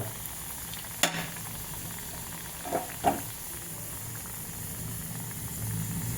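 Snack batter drops into a small amount of hot oil with a steady sizzling hiss, a sharp crackle at the start and two softer pops a little later, with no talk.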